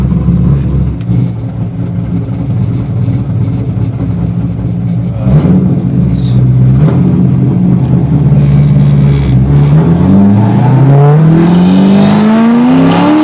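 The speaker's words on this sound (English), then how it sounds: "got this weird drivetrain noise." A car with a drivetrain fault at the torque tube and shifter drones loudly from inside, its steady low hum turning into a rising whine as the engine revs and speeds up toward the end.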